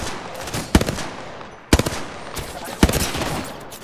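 Gunfire in the Apex Legends battle royale game: three sharp bursts of automatic shots roughly a second apart, loud and close over a steady background hum.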